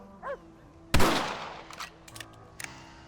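A single sharp rifle shot in the Red Dead Redemption game during target practice, loud and close with a decaying echo, followed by a few fainter clicks and knocks of handling.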